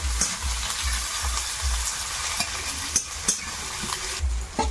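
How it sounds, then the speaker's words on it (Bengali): Chopped onions fry in hot oil with bay leaf and green chillies for a prawn biryani, giving a close, crackling sizzle. Repeated scraping strokes of a spatula stir the pan in a loose rhythm. "পেঁয়াজটা হালকা একটু ভেজে নিয়েছি"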